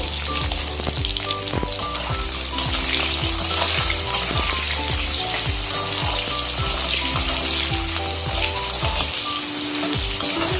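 Diced tomato pieces fry in hot oil together with potatoes, sizzling steadily and close throughout, with a spoon clinking and stirring in a rhythmic series of knocks.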